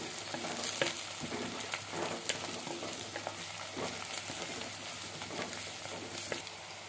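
Onions and fresh curry leaves sautéing in oil for a sardine fish curry, a soft, even sizzle with scattered crackles and spatula stirs.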